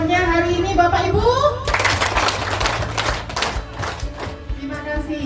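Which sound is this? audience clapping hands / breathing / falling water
audience clapping hands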